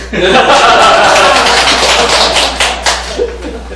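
A small group of people claps in a brisk burst of dense, sharp hand claps that thins out toward the end, with a few chuckles and light laughter mixed in.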